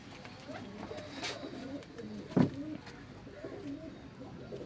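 Teddy pigeons coo softly near at hand, with a couple of low throaty calls and one louder burst midway, while faint background noise and a hint of talk sit underneath.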